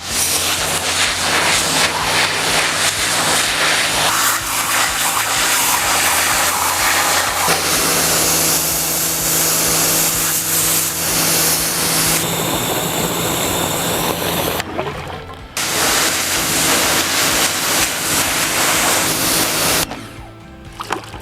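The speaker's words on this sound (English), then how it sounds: "we're going to go ahead and grab our pressure washer" A pressure washer blasting an automatic drywall taper clean, a loud continuous hissing roar of spray and motor with short interruptions where the stream cuts off and restarts.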